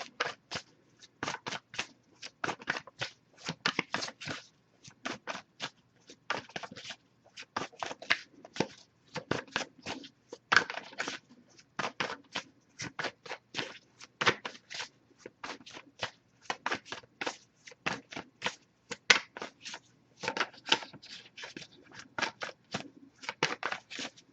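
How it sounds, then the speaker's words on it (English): A deck of tarot cards is shuffled by hand in continuous quick riffles and slides, soft papery flicks arriving in dense bursts with brief pauses, close and fairly quiet, with no talking. "If I shuffle for a while without anything coming up, though, I'll move on to the next deck."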